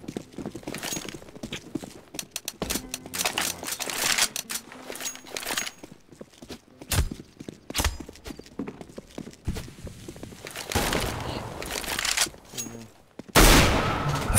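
Bursts of rapid gunfire in the game Counter-Strike: Global Offensive on the Inferno map crackle in irregular clusters, sharp shots separated by short pauses, with a louder burst near the end.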